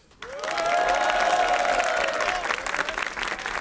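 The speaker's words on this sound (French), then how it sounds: "Applaudissez-le." A crowd at a French rap battle bursts into loud applause that swells within a fraction of a second and stays dense and sustained, then thins slightly toward the end.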